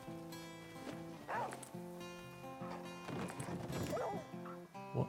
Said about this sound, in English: I hear a wolf fighting a pig somewhere.